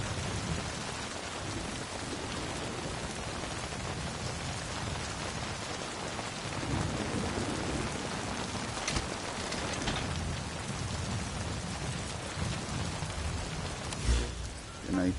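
Steady, dense rainfall pattering continuously in Metal Gear Solid V: The Phantom Pain, with a faint distant rumble and a brief thump near the end.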